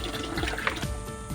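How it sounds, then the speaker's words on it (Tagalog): Saluyot leaves and bitter gourd being rinsed by hand in water during a second wash, with steady splashing and trickling close by and no voices. "hugasan na ulit natin ang pangalawang hugas para sureness na malinis. Saluyot naman ang hugasan natin saka ampalaya."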